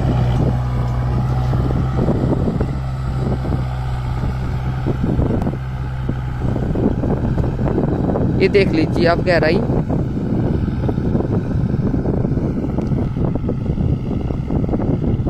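A Kubota MU4501 4x4 tractor with an 11-tine cultivator runs with a steady, droning engine close by, buffeted by wind noise while someone talks over it.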